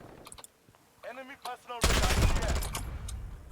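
P90 submachine gun in the video game Modern Warfare 2019, a dense rapid burst of automatic fire that starts abruptly and runs to the end, loud and close after a few brief clicks and a short voice.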